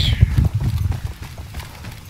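Rapid hoofbeats of a horse galloping in the video game Battlefield 1, a close, loud, rhythmic clip-clop that fades slightly toward the end.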